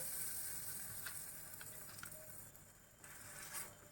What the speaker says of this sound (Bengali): আগে এপিট ওপিট করে ভেজে নিতে হবে, নিয়ে তারপরে বাটার লাগাতে হবে।